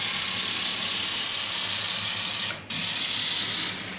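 A model railroad locomotive runs at about 75% throttle through an auto reversing unit, giving a steady, close mechanical whir that briefly cuts out for a moment near the middle before resuming.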